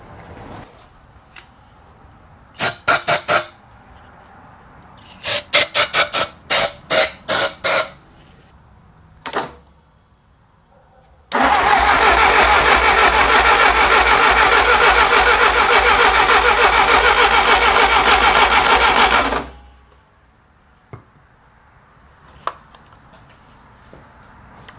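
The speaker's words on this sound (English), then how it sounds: "we're gonna try and use some starting fluid to see if it'll at least pop or crank or something like that" A project car's engine cranks on starting fluid, first in short clicking bursts and then in one long, loud continuous cranking run that stops abruptly.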